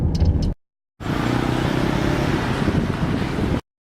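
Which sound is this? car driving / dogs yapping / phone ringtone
car driving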